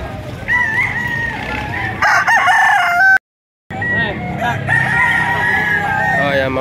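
Roosters crow loudly and repeatedly at a busy poultry market in Padre Garcia, Batangas, with overlapping calls and clucking over steady crowd noise and a brief dropout midway.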